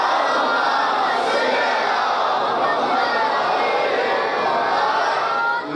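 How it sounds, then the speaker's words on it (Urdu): A large mourning congregation at an imambargah in Lahore on the first of Muharram recites salawat loudly in unison, a dense, sustained roar of many voices filling the hall without pause. "اب جس کا دل ہے ذکر حسین بادشاہ سننے کے لیے وہ اتنی بلند صلوات پڑھے"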